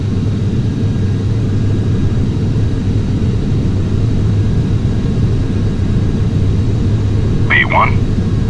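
An airplane accelerates down the runway on its takeoff roll, heard as a loud, continuous engine and rolling rumble from inside, with a short voice breaking in near the end.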